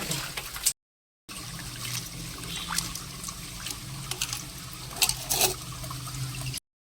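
Water runs from a tap at a village home in a steady trickling stream, briefly stopping near the start and then flowing on with occasional louder splashes.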